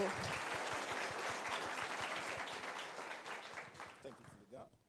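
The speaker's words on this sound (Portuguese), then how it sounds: "Uma salva de palmas para o Fernando." Audience applause at a Nubank engineering meetup: a crowd claps steadily for several seconds, moderately loud, then thins out into a few scattered claps as it fades.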